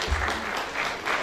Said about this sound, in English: Gentlemen, a big round of applause